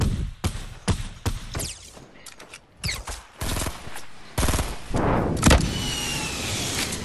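Rapid bursts of gunfire from a Fortnite match, with repeated sharp shots and short volleys rising and falling across the span, some clustered into quick rattling sequences, loud and close with no talking.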